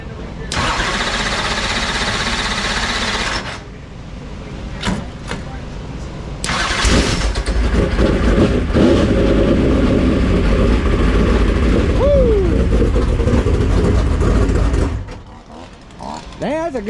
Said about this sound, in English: we're gonna hit it the starter for the first time